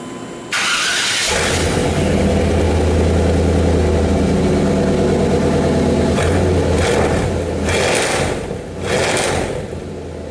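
A 1995 Chevy pickup with a new catalytic converter and dual exhaust cranks briefly, catches, and settles into a loud, deep, rumbling idle that holds steady for several seconds with a couple of small revs near the end, heard alone without talk.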